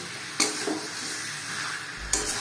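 Dry chilli chicken, thickened with cornflour slurry, gets stirred in a pan: a steady low sizzle runs throughout, broken by two sharp scraping strokes of the spoon, near and fairly quiet, no talk.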